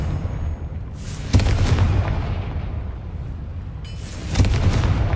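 Confringo fire spell explosions in the video game Hogwarts Legacy, two separate loud booming blasts about three seconds apart, each with a sharp crack and a rumbling fiery tail, with no speech.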